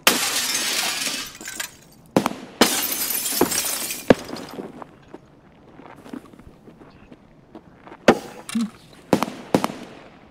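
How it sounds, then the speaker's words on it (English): Gunfire in the video game Escape From Tarkov, loud sharp cracks and bursts of shots with sustained noisy stretches, separated by quieter gaps and scattered impacts. "I hear loud gunshots."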